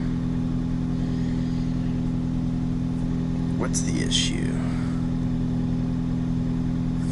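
A Ford Focus ST with a high flow filter fitted idles steadily with a constant low hum throughout, while a person speaks briefly over it.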